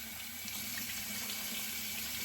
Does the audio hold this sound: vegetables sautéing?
no